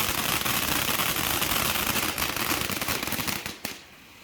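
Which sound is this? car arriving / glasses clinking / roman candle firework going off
roman candle firework going off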